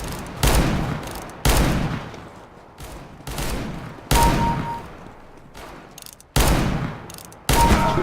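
Gunfire in a Counter-Strike: Global Offensive deathmatch with the R8 Revolver: loud, sharp single shots spaced about a second apart, some ringing on briefly, with no talk over them.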